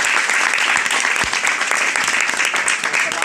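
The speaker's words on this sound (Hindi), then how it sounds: "आज तो खैर एक बार शफीक भाई के लिए जोरदार ताली चाहूंगा" Loud, dense applause from a crowd at a marketing introduction event, steady throughout and close by, with no pauses.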